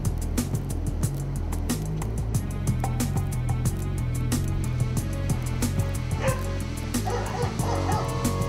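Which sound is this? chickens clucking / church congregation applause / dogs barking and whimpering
dogs barking and whimpering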